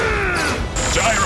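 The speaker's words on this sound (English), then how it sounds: "Pulse cannon!" An energy weapon blast from a pulse cannon in a Transformers cartoon battle: a loud, sudden burst with a rising whine that is partly masked by other effects and voices.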